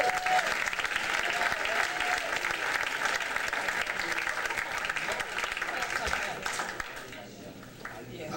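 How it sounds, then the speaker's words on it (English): A theater audience at a film tribute event gives a sustained round of applause, broad and steady clapping from many people that fades toward the end, with faint voices underneath. "Please give him a round of applause, Mr. Dennis Bartok."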